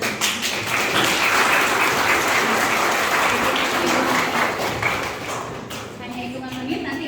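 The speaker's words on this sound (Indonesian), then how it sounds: "Tepuk tangan." Applause from a group fills the whole stretch as a steady dense patter, easing slightly toward the end, with voices talking over it.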